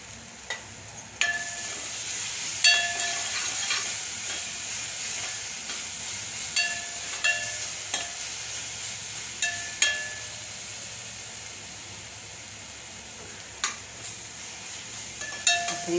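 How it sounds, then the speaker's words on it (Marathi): A turmeric tempering (phodni) for potato filling sizzles softly and steadily in a pan, with scattered metallic clinks of a spoon tapping the rim. "ही फोडणी आपण या बटाट्यावर ओतून घेऊया."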